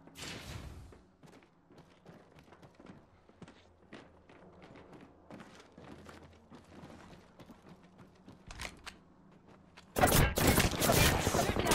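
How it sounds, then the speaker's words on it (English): Apex Legends match with bursts of rapid gunfire, scattered shots and footsteps, then a loud sustained volley of fire at the end; a voice speaks briefly over it. "Shooting at me. Taking fire."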